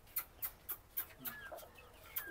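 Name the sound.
chicken clucking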